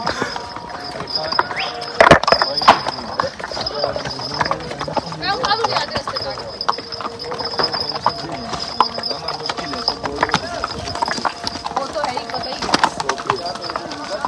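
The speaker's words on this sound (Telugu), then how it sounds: "మా గుర్రం సౌండ్, కాళ్ళ సౌండ్." A horse walking along a village trail in the Baisaran valley near Pahalgam, Kashmir, its hooves clip-clopping in a steady rhythm close by, with birds and outdoor background noise throughout.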